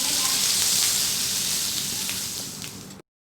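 Red chilli chicken sizzles steadily in hot oil over a medium flame, a loud, even frying hiss that fades slightly before cutting off abruptly.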